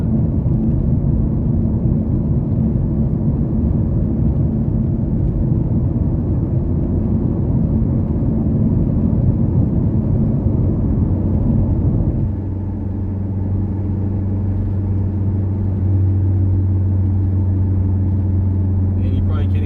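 From inside the cabin of a 2008 Honda Civic LX on the road, the exhaust hums as a steady low drone. Partway through it drops to a quieter, smoother tone.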